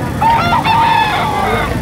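A rooster crows nearby at a market in Padre Garcia, Batangas, a single drawn-out call with a wavering tone, loud over faint background noise.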